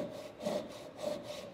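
A fine-toothed pull saw cutting a small kerf slot in wood, with rhythmic rasping strokes about every half second, close and clear with no talking.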